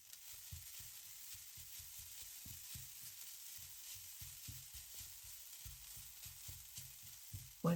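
Grated coconut frying and being stirred in a pan with fried seasonings for a green bean and coconut stir-fry, a quiet steady sizzle broken by regular soft scraping strokes, close by with no voices.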